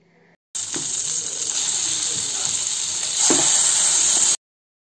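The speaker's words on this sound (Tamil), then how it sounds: "எண்ணெய் நல்லா சூடானதும் இந்த மூளையை சேர்க்கலாம் இதை மீடியம் லோ ஃப்ளேமில் வச்சு ரெண்டு நிமிஷம் அப்படியே விட்டுறலாம்" Goat brain frying in hot oil in a pan over medium-low flame, a loud steady sizzle running unbroken for about four seconds, with a couple of brief scraping knocks and a slight swell in intensity near the end.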